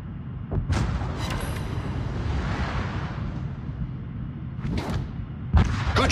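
Artillery strike in a tier 10 clan battle video game: a deep rolling rumble of explosions with booming impacts and whooshing blasts at the start and near the end, loud and continuous.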